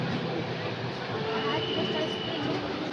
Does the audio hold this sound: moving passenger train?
yes